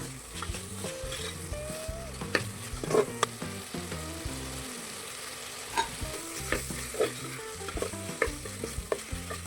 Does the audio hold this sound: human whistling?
no